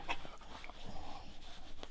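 Dog panting rapidly, with brief high whimpers mixed in, close and fairly soft, no talk.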